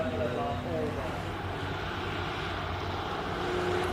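A Porsche 911 Turbo races up a hillclimb course, its engine a steady, distant-sounding roar that holds throughout, blended with the noise of a commentator talking over the top.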